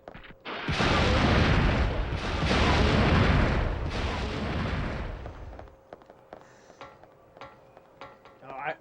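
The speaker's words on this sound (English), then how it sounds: "There's your kaboom, Linda." Large in-game explosion from Dino Crisis 2, a loud sustained roaring blast lasting several seconds before fading into quieter game sounds with a few scattered small pops and clicks.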